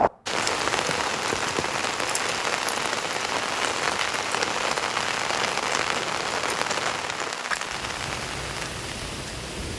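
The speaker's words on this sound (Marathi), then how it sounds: "दाट धुकं आणि पावसाची संततधार सुरू आहे" Steady rain falls continuously, a dense even patter of drops on surfaces that holds at the same level throughout with no voices.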